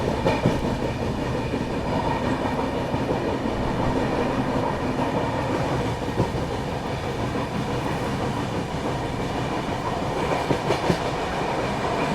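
West Bengal Sampark Kranti Express rolling past at close range, a steady loud rumble of wagons with rhythmic clickety-clack from the wheels over rail joints throughout.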